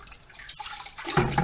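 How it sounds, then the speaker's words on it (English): A carburetor part dunked and swished in a 5-gallon bucket of plain water, soft sloshing and splashes growing louder toward the end, close and brief. "So we're gonna dip this into some water. I got a 5-gallon bucket over here with just nothing but water."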